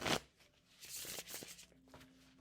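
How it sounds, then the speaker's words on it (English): Tarot cards are shuffled close up in a few quick rustling, riffling bursts, with a sharp snap at the start and softer flicks after, quiet and with no talk. "it's so easy for me to shuffle these"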